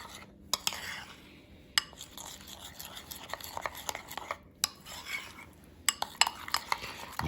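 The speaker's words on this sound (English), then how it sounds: "All right, now we just mix it." Spoon stirring tapioca powder mixture in a bowl for Brazilian crepe, giving scraping, clinking strokes in an irregular rhythm with sharp taps against the sides, close and fairly quiet, no talking.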